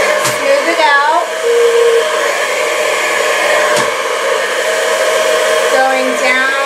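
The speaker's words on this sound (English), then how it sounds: "You want to point the nozzle of the blow dryer down the hair, just like that." A handheld blow dryer drying hair runs as a loud, steady whoosh through the whole stretch, with brief shifts in tone as the nozzle moves along the hair.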